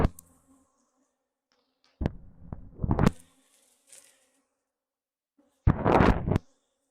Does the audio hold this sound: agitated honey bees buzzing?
yes